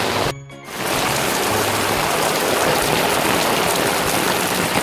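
Heavy downpour during a walk along a flooded path, a dense, steady roar of rain that briefly drops away near the start, then holds loud and unbroken.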